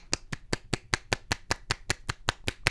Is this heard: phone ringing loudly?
no